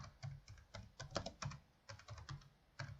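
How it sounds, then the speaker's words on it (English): Close keystrokes on a computer keyboard come in uneven clusters and short runs with small gaps, clear against a quiet room and no speech. "Of course, you can type whatever you want."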